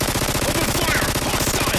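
Gunfire in VRChat, a video game: a loud, sustained burst of rapid automatic shots in an even, fast rhythm, close and continuous.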